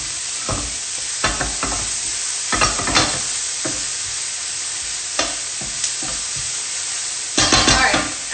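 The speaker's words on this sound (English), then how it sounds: "The plan is to just basically like sweat the onions." Onions sweat in a pan with a steady soft sizzle, punctuated by several sharp scraping stirs of a utensil against the pan.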